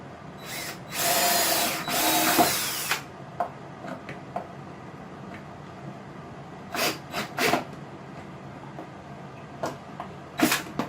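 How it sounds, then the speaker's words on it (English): A power drill drives screws into a wooden ham radio desk: a long, loud double whir early on, then several short bursts, each a second or less, with small handling clicks and taps in between. "It's just a matter of putting another 3 screws in back here, just to make sure she stays solid."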